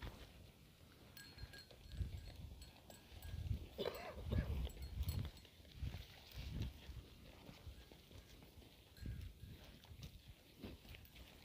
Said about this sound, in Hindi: बहुत ही अच्छी नस्ल की बकरी है दोस्तों, जो दिखाई दे रहा है आपको वीडियो में।